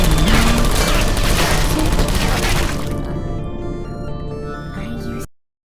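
Portal 2 turrets firing in the video game, a dense burst of rapid cracking gunfire that holds loud for a few seconds, then thins into ringing debris before cutting off abruptly.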